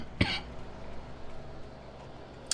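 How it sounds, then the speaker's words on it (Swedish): A single sharp cough close to the microphone, brief and loud, followed by a fainter short cough near the end, over a low steady background hum with no talking. "Sluta hosta."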